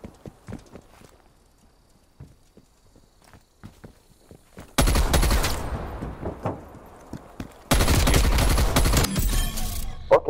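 Gunfire from Black Ops Cold War in a 2v2 match, arriving in two loud sustained bursts after a quieter stretch of light footsteps and clicks, with a brief gap between the bursts.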